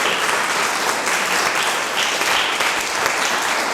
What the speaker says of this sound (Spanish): Les pido un fuerte aplauso, por favor, para recibir a la doctora.